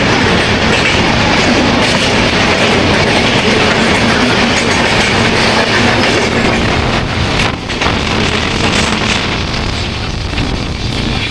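The Bikaner Howrah Express runs past Sasaram Junction with a loud, continuous rumble of wheels and rattling carriages heard from inside the train.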